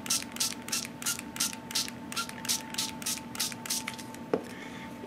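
Repeated short hisses from a spray bottle misting porous book paper for a mixed media collage, about a dozen quick rhythmic bursts close by over a faint steady hum, with one sharp tap near the end.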